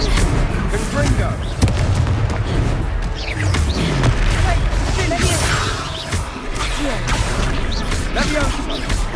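Confringo blasting spells exploding in combat in the video game Hogwarts Legacy, a dense barrage of booms, crashes and crackling bursts that continues through the whole stretch, with battle noise and voices mixed in.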